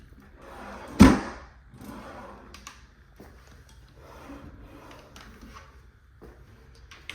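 Wooden cabinet drawers without soft-close slam shut with one loud sharp thud near the start, followed by quieter sliding and knocking of drawers being opened and shut in a house.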